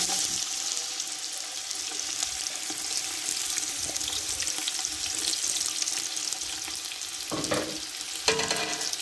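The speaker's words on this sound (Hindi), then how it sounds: "मैं प्याज डालूँगी" Onions fry in a little vegetable oil in a cooking pot: a constant close, crackling sizzle, with a couple of louder scraping stirs near the end and no talking.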